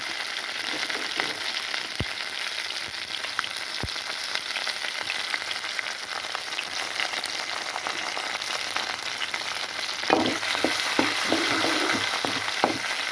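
Crushed garlic and onion sauté in a pan for a crab gravy, giving a soft, steady sizzle and crackle. Stirring adds louder scraping bursts toward the end.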